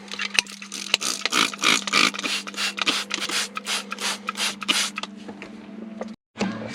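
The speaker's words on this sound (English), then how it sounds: "I'm just gonna spray it down quick with some cleaner just to eliminate the amount of dirt" Cleaner sprayed onto dirty parts of a Whipple-supercharged Shelby during a fuel pump upgrade: rapid bursts of spraying hiss, repeated many times in quick succession over a steady low hum, close and fairly loud, ending with a brief pause.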